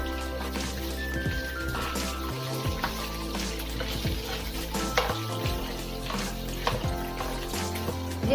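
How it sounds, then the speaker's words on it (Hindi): Whole spices, including black cardamom, sizzle and crackle steadily in hot oil, with occasional clinks and scrapes of stirring throughout. "और अब हमें इसे फ्राई करना है।"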